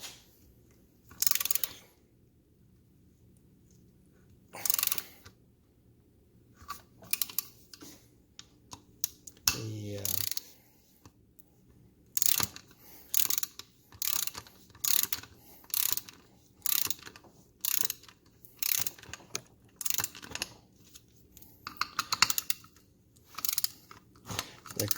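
Torque wrench clicking sharply while bolts are tightened on a motorized bicycle engine, a series of separate ratcheting clicks and mechanical taps spread evenly through the clip, close and clear with no talking.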